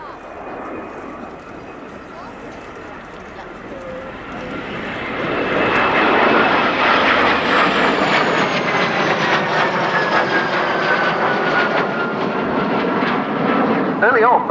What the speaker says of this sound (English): the MS-760 Paris, and that's the aircraft that's leading the formation about to run in from our left